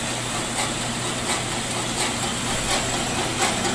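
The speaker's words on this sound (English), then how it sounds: "7" by 12" horizontal bandsaw. So fire it up to show you that it does operate." A Vectrax 7 x 12 inch horizontal bandsaw runs steadily close by, a constant mechanical hum with a faint rhythmic knock repeating about every three quarters of a second, and no talking.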